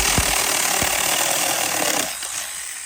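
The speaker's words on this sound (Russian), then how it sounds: "Я только что начал вообще ствол пилить." A hand saw cutting through the trunk of a fallen tree for firewood outdoors, a steady close rasping grind with a few sharp strokes, easing off near the end.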